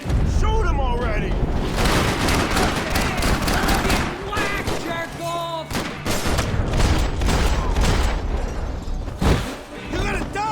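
Max Payne 3 shootout with dense rapid gunfire and bursts, loud and close, continuing almost without pause, with shouting voices mixed in.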